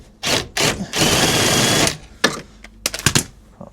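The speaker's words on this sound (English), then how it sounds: "Andrew, just fucking undo the fucking bolts" Bolts undone on the loose front end of an abandoned Volkswagen Golf GTI: loud mechanical whirring bursts, two short then one long, followed by sharp metallic clanks and knocks nearby.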